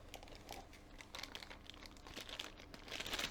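A plastic bag crinkles close up as a TP-Link Omada networking device is unwrapped, a series of sharp, irregular crackles and rustles that swell louder toward the end.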